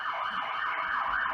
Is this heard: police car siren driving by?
yes